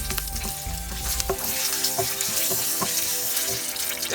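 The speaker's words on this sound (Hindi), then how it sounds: "ये थोड़ा सा फ्राई करना है हमें, लेकिन गैस बंद करके फ्राई करना है।" Slit green chilies sizzling in fish oil in a pan with the gas turned off, a steady crackling fry with small pops and stirring clinks, close and continuous with no talking.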